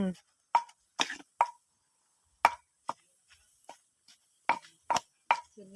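A grandmother pounds ingredients for Thai om khi dek curry in a mortar, giving irregular sharp thuds in short clusters with quiet gaps between, close and moderately loud, with no talking.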